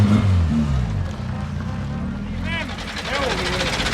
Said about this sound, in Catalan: Fes bramar aquest motor